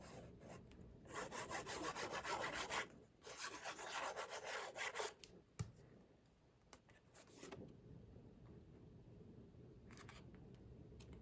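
Paper matting glued onto a 6x8 folio album is burnished by hand in bursts of close, dry rubbing and scraping strokes, loud and steady for several seconds with short pauses between passes, then fading to quiet handling.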